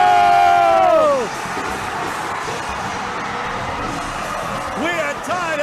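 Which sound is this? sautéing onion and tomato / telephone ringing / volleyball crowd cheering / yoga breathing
volleyball crowd cheering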